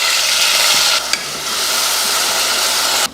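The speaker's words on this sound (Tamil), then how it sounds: "எண்ணெய் காயில் பொறிஞ்சதுமே கொஞ்சம் கருவேப்பிலை அடுத்து நம்ம அரைச்ச வெங்காய பேஸ்ட்டு" Ground onion paste and curry leaves fry in hot oil, a loud, steady sizzle close by that briefly dips as the paste is stirred.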